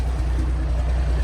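A car engine idles steadily with a leaking, split exhaust, giving a loud, deep, rumbling drone that stays constant and close throughout, with no talking.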